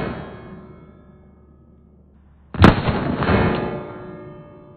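Single sharp, loud gunshot from a Ruger LCR .357 Magnum revolver, a sudden close crack with a rolling outdoor echo, preceded by a fading background rumble.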